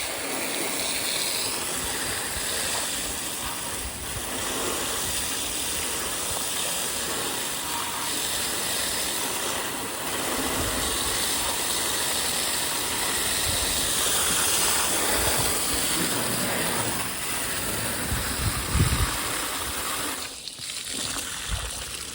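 Compressed air blowing dirt off the fuel pump area of a Jeep Cherokee XJ, a continuous loud rushing hiss lasting throughout with slight surges and a brief break near the end.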